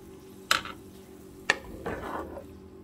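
Two sharp clinks of a utensil against a pan, then a soft scraping stir as egg goes into a pan for scrambled eggs, close and fairly quiet with no talking.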